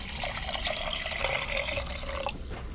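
Water poured into a cooking pot of tamarind sinigang, a close, splashing, gurgling stream running steadily for a couple of seconds before cutting off.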